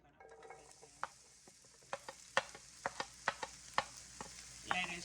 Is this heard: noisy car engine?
no